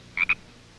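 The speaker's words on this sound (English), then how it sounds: "I think she turned herself into a frog." A frog gives a quick double croak, two short close chirping calls in a quiet room within a children's TV show.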